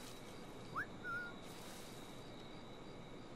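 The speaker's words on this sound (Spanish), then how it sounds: "Voy a silbar a ver si..." A character in Assassin's Creed 4 Black Flag gives two short, fairly faint whistles, a quick rising note and then a brief held one, over a steady background hiss of game ambience.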